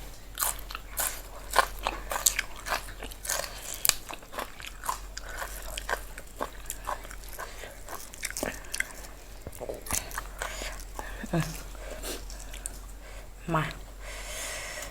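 Someone crunches and chews cherry snail salad (koi hoi cherry) with crisp raw vegetables, making close, repeated crisp bites and wet chewing in an irregular rhythm, with occasional sniffs.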